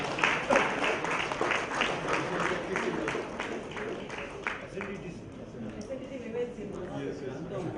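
Audience applause for a second prize winner at a university valedictory ceremony, a burst of clapping in the first half that thins and fades under crowd murmur and an announcer's voice.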